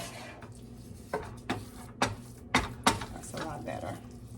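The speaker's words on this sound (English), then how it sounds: "I should have been stirring it with this" A spoon scrapes and knocks inside a pot of lentil sloppy joes, several distinct clunks spaced about half a second apart, close and fairly loud over a soft background.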